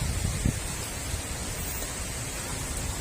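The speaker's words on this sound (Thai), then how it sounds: "ลมพายุเกิดขึ้นมา" Steady broad roar of strong storm wind through forest trees, dense and continuous, with a faint low thump early on.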